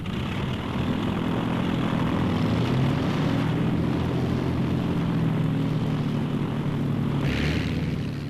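A propeller-driven training aircraft at the Cranwell college in 1955 drones steadily overhead, a continuous loud engine hum with a faint rise near the end, no voices.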